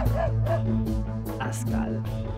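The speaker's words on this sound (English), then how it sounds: "And it's a dog." A small dog yips and barks repeatedly in the video game Anito, short high bursts close up, mixed with a musical in-game backdrop.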